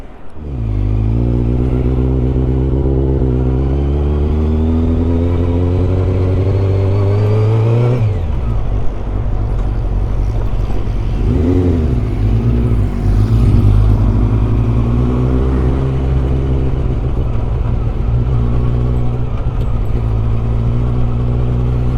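A Yamaha YZF R125 motorcycle engine runs steadily and loud throughout, with a brief dip around the eight-second mark before the revs settle back into a smooth, sustained drone.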